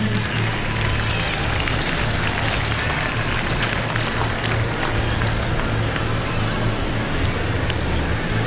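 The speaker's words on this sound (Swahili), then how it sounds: "Tafadhali wananchi, kwa heshima, makofi kwa hawa marubani." An outdoor crowd at an air show claps for the pilots, a dense continuous patter of applause with a low rumble underneath, steady and fairly loud throughout.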